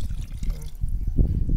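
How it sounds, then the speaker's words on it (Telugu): Chicken boiling water poured into a pot of basmati rice, a short low splashing pour that swells toward the end, close and soft, no voices. "వేసిన తర్వాత వాటర్ పోస్తున్నాం."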